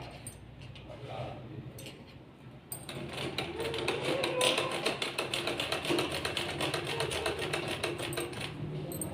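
A sewing machine runs close by, stitching the sleeve of a stretchy top with a rapid, even mechanical patter after a quieter start, while someone talks over it.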